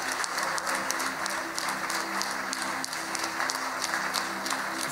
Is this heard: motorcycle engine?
no